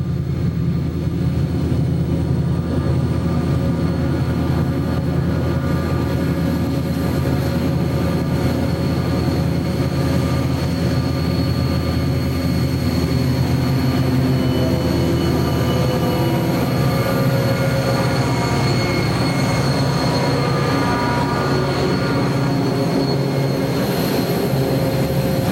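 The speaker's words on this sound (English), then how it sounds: "Led by CSX 8164, a WEPX train was caught by the camera at milepost W15" A CSX-led WEPX freight train rolls past at milepost W15 on the Monongahela Railway, a loud, steady rumble of engine drone and rolling wagons lasting throughout, with faint wheel squeal.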